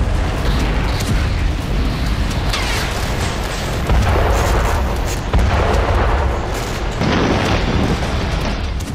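Weapon explosions from assault rifles, grenade launchers and rocket launchers, heard as dense, continuous booming blasts with loud bursts near 4, 5.3 and 7 seconds over a constant rumble, with no talk.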